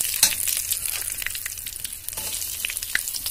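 Onions fry in a pan for a home-style prawn masala, giving a close, crackling sizzle. A few sharp spits and stirring scrapes break through the steady hiss.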